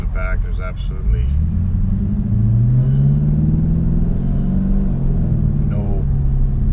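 Camaro SS with Flowmaster exhaust, a 3200 Circle D stall converter and 3.91 gears pulls away in heavy stop-and-go traffic, its loud, deep exhaust climbing in pitch as it accelerates, with a voice speaking at the start and briefly near the end.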